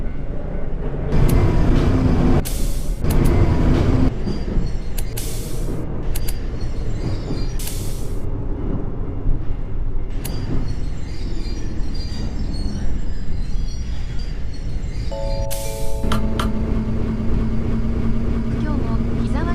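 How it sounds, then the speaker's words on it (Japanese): One-man local train on the Yuzawa forest coastal railway, rumbling steadily throughout with occasional bursts of wheel and brake noise and a chime near the end, under an onboard announcement voice. "この列車は普通下岡行きワンマン列車です"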